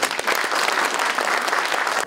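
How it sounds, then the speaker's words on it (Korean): Audience at a Korean panel debate on revising the Local Autonomy Act claps steadily, a dense, sustained burst of applause filling the room for about two seconds. "다시 한번 큰 박수 부탁드리겠습니다"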